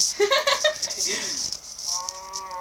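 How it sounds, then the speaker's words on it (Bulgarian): A cow in a PlayStation 4 video game moos loudly and close by, followed by brief electronic tones and low background noise. "Чуйте крава."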